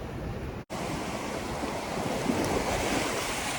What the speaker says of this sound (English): Whenever you see the waves coming, just run.